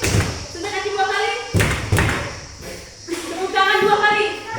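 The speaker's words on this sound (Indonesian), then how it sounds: "Sentak kaki 2 kali." Primary school children stomp their feet twice in a classroom, two heavy thuds from many feet landing close together, while a teacher speaks between and over them.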